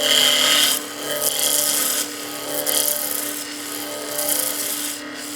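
A skew chisel cuts a wooden spindle on a lathe, its bevel riding the surface; a steady, close rasping scrape runs throughout, louder at the start and pulsing slightly with each pass.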